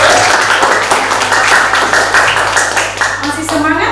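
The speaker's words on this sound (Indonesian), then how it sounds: "Oh ya, kita beri aplaus." Audience applause in a classroom fills the space, a steady wash of many hands clapping close by, loud and continuous, tapering slightly toward the end.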